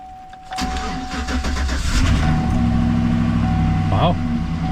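A Chevrolet Silverado truck engine cranks briefly, catches and settles into a loud, close, steady idle with a low rumble, and a voice speaks over it.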